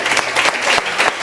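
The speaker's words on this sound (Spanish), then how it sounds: "Un aplauso, sí." TV studio audience applauds in a short, steady burst of clapping with slight swells, fairly close and without talk.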